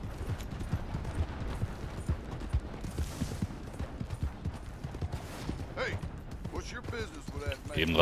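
Horse hooves clip-clop in a steady, rapid rhythm while riding in the video game Red Dead Redemption 2, fairly loud and continuous, with a faint voice talking in the background.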